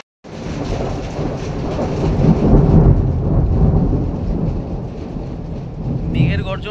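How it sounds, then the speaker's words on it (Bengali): Thunder rumbles loudly and steadily in the hills around a forest cottage near Siliguri, a deep continuous roll with rain hiss, swelling and fading over several seconds. "মেঘের গর্জনটা শুনতে পারলেন?"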